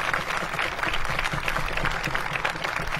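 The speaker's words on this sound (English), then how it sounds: "So let's give a big round of applause to our former superintendent, Dr. Bruner." A crowd claps warmly for a former school superintendent at a mariachi leadership scholarship event, a continuous dense, even patter of many hands from start to finish.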